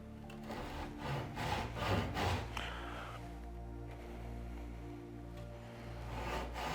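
A tenon saw rasps back and forth through wood in a boat-building workshop, with repeated close strokes in an uneven rhythm and no talking.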